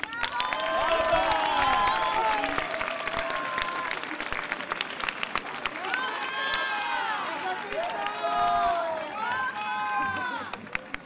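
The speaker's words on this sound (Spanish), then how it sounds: "Un fuerte aplauso para ella." Audience applause at an evening proclamation ceremony for the Majas 2017 festival in Castellote, broad sustained clapping mixed with crowd cheering and voices, steady and fairly distant throughout.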